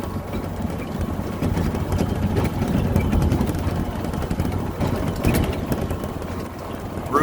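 A 2021 Tracker Off Road OX400 UTV with a Kawasaki 400cc engine climbs a hill off road, its engine droning low and steady throughout with rattling and rumble mixed in and no talking.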